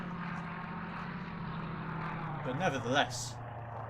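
An enemy aircraft in the submarine game Silent Hunter III drones overhead, a steady propeller engine hum that swells briefly near the end, with someone talking over it.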